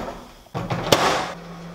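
A microwave oven door swings with a soft thud and a sharp latch click, followed by a low steady hum, with a whole durian inside.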